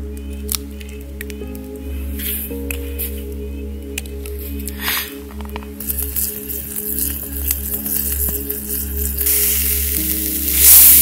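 Oil heating in a pan over a fire for a camp meal in a forest gives a steady, close sizzle, with a low constant hum underneath and a louder burst of crackle near the end.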